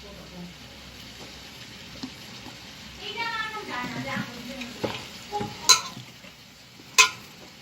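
Cumin seeds frying in oil in an old-style home kitchen, a low sizzle with stirring scrapes and a couple of sharp utensil clinks near the end.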